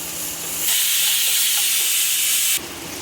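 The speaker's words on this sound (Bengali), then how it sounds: "যত ভালো করে পেঁয়াজটা ভালো করে ভাজবো" A loud, steady hiss of onions frying in a hot pan, swelling up abruptly and holding for about two seconds before dropping back.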